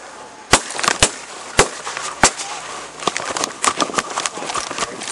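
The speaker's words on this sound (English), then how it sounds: "shots fired" Gunshots during a police chase, sharp isolated cracks spaced irregularly at first, then a quicker cluster of pops, loud and close over a faint background hum.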